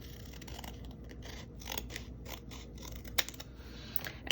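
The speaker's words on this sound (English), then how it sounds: "I'm just gonna cut these on the side like this. We're basically cutting those flowers." Scissors cut paper flowers for a planner in a quiet room, with a run of soft snipping and rustling paper that ends in a few sharper clicks.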